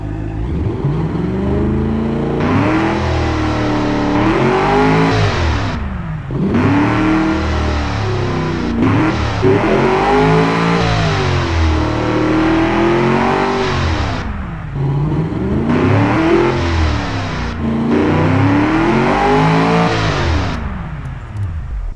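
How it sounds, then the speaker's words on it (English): A car engine in the video game Automation revs up and down repeatedly, rising and falling whines cycling every few seconds, loud and continuous with a synthetic, game-like tone. "start the engine and just play with the throttle so you can get a good feel for the sound"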